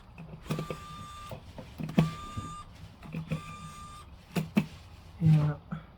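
A cordless electric screwdriver whirs in short bursts while a PC with an AMD Ryzen 9 9950X and RX 6900 XT is assembled, several brief buzzing spins separated by clicks and handling noises, close by and moderately quiet.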